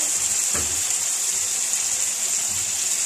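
Water is poured into a pan of softened tomatoes, making a steady, close gushing hiss that runs throughout, with a few faint low bumps underneath.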